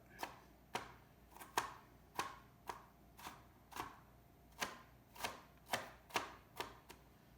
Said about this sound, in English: onion chopped up